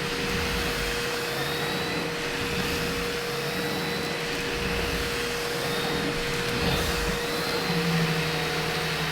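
Miele STB 300-02 turbo nozzle on a vacuum cleaner running over soft carpet, a loud, steady whirring motor drone with slight surges as the head moves back and forth, no talking.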